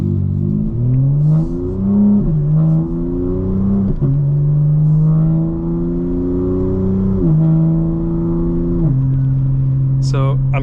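A 2025 BMW M4 Competition xDrive with the exhaust burble switched off accelerates hard through several gear changes, the engine note rising and dropping back repeatedly, loud and close throughout.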